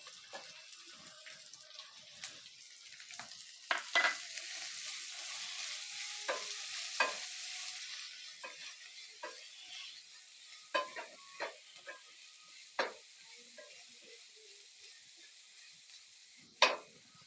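Browned garlic and chopped onion sizzling in a pan for a tomato sev curry, a soft steady fry broken by repeated scraping stirs of a spoon, close by, with no talk.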